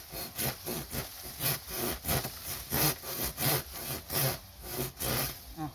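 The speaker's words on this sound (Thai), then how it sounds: "ก็ใช้เลื่อยที่เราเตรียมมา" Steady back-and-forth strokes of a hand saw biting through a woody bamboo branch, close up and rhythmic, about two strokes per second with no talking.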